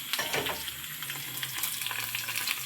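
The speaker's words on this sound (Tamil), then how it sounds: "அந்த வத்தல் கொத்தவரங்க வத்தல் தான் பொறிக்க போகிறேன்" Dried cluster beans frying in oil in a home kitchen, a steady close sizzle and fine crackle with faint stirring, moderately quiet and continuous.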